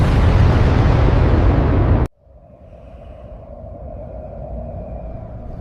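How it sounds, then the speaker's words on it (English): Rocket launch: a loud, dense roaring blast cuts off abruptly after about two seconds. A lower, quieter rumble follows and slowly builds. "Launch the rocket immediately."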